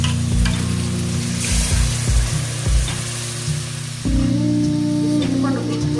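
Nellore-style fish curry sizzling in a pan as tamarind broth is poured in, a steady loud frying hiss that swells into a fuller bubbling sizzle partway through, with faint stirring knocks underneath.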